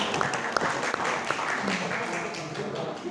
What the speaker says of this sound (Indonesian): Tepuk tangan untuk puskesmas Koncowarno